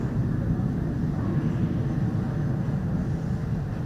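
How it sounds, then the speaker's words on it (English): A hostile aircraft flies overhead from the direction of Lebanon. It makes a steady, broad rumble that holds at an even level the whole time, with no voices over it. "Intrusion, a hostile aircraft going on."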